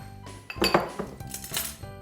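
Ceramic bowls clinking and clattering as they are pulled out in a home kitchen after cooking a zucchini noodle stir fry, a few sharp close knocks and rattles with no voices.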